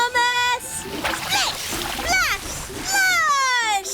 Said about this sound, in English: Muddy water splattered everywhere.